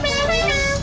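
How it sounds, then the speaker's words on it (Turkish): A car horn blares in one steady, loud honk lasting under a second, close by, during a driving lesson. "Korna çalayım mı senin gibi?"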